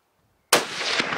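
A single loud rifle gunshot fired while hunting brown bear, a sharp close crack after silence followed by a rolling outdoor echo.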